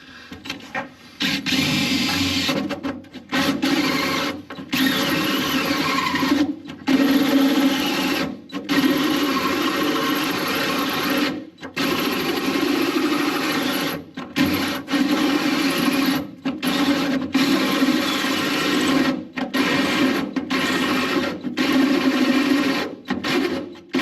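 A power drill bores into the bed of a 3/4 ton truck, running almost continuously, whining steadily with a few brief pauses, close and loud, with no voices.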